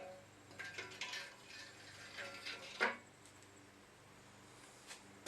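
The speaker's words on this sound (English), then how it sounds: "Now we'll go ahead and install the girdle." Metal clicks and clanks as a main bearing girdle is fitted onto a Nissan KA24DE engine block, a few faint scattered taps with one sharper metallic knock near the middle in a quiet workshop.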